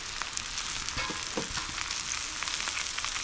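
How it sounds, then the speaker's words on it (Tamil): Banana flower stir-fry sizzling steadily in a pan as drumstick leaves are added and mixed in, with a constant hiss and crackle of frying and a few soft scraping stirs, close up and with no speech. "சேர்த்து நல்லா கலந்து விட்டுடலாம்"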